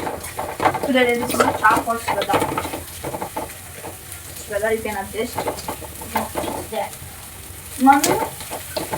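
Curry leaf rice (chitranna) seasoning fries in a pan with a low sizzle and occasional stirring scrapes, partly masked by a voice talking in bursts throughout.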